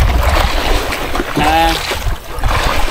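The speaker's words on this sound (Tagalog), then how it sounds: "Medyo magalaw yung dagat eh." Choppy sea water sloshes and splashes around a small fishing boat out for early-morning solo jigging, a steady broadband wash with a brief tonal whine in the middle and a voice talking faintly underneath.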